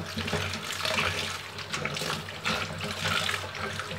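Vegetables such as pumpkin and spinach leaves being washed under running water, a continuous close splashing gush with shifting sloshes as the pieces are rinsed, no talk.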